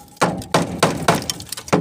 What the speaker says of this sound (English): There's a very big hammer for a very small job.